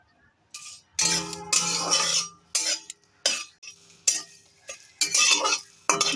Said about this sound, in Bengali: মশলাগুলো শুকনো খোলায় ভেজে নিচ্ছি সব।